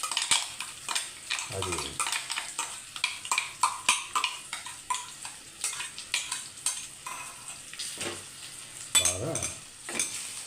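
Tomato, onion and cashew paste goes into a pan with oil for paneer masala, giving a soft sizzle broken up by repeated scraping and clinking of a spoon against the pan, with a brief voice speaking.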